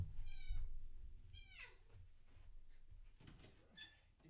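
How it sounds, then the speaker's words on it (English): A domestic cat meows several times in a row, close and clear, each call a drawn-out harmonic wail with short pauses between, alone with no talking. "She is the most vocal cat we have ever had, and it is really something."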